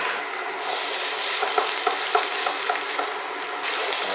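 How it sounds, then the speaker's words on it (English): Potatoes sizzle in a pan of hot olive oil, a steady close crackling hiss with soft stirring bumps throughout. "Once we got it nice and hot, add my potatoes."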